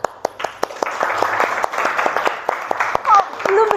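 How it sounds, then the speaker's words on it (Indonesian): Students in an Indonesian maths classroom clap together on a teacher's cue, a steady run of sharp, close claps with children's voices chattering over them. "tepuk tangan buat semuanya"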